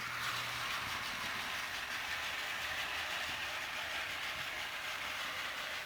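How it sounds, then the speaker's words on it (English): Toy Plarail N700 high-speed trains run around a plastic track, giving a steady whirring motor drone and a faint rattle of the cars throughout, heard close up without talk. "Toby is about to try to knock off the Playrel N700 off the track."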